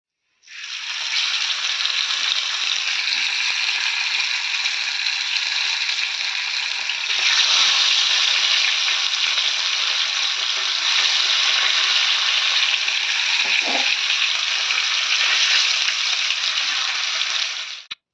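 Fish sizzles in hot oil in a pan, a loud, dense, continuous frying hiss lasting throughout, with a few faint clinks partway through and no voices.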